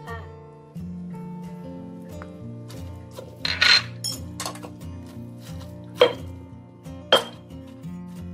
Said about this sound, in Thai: นี่ค่ะแล้วก็ตำด้วยข้าวเหนียวของเราเลยค่ะ